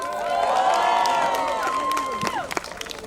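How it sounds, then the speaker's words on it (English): Crowd of guests at an engagement and sangeet celebration clapping and cheering loudly, with whoops and voices over the applause before it thins out into scattered claps. "big round of applause for them"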